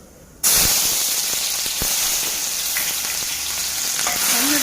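Mustard seeds and cumin hit hot oil for tomato rice, bursting into a sudden loud sizzle that holds as a steady, close hiss with faint scattered pops and no speech.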